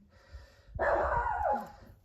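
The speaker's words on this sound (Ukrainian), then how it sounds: "Гуляти хоче собака, яка мене заве." A dog barks outdoors somewhere near a yard, giving a single loud, fairly close bark burst about midway through, set against a quiet background with faint low rumble.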